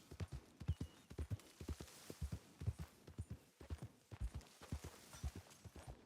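Rhythmic horse hoofbeats galloping steadily in the video game Red Dead Redemption 2, soft and even, continuing throughout with a faint low hum beneath.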